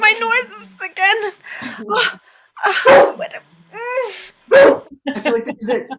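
A person imitates a dog with their voice, making a run of short, loud yelping and barking sounds in uneven bursts separated by brief pauses.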